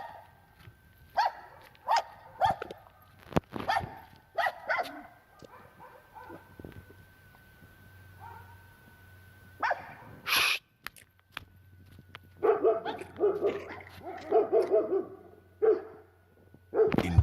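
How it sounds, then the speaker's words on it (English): Dogs bark furiously in bursts of sharp, repeated barks from several animals at different distances. A low hum runs between the bursts, and the barking swells into a dense chorus toward the end. "dogs barked furiously toward the pitch-black fields"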